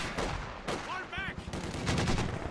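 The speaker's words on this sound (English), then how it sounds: "Now we've got this MG42 seemingly destroying this van." An MG42 machine gun fires rapid bursts in the strategy game Company of Heroes, brief and mid-distance, mixed with other battle noise while a commentator talks over it.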